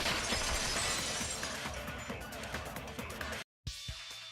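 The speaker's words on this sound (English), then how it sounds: "the girls heard the sound of the window shattering" Glass shattering in the Danganronpa 2 video game bursts out as a dense, loud crash of breaking shards, ringing and scattering for over three seconds before a brief silence and faint trailing tinkles.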